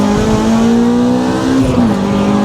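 An Audi Q3 TFSI and an EP3 Civic Type R launch hard, with a loud, sustained engine roar that climbs in pitch and then shifts down briefly, heard close and without talk.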